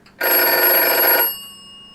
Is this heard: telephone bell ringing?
yes